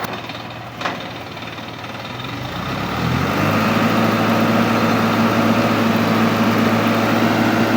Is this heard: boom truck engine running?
yes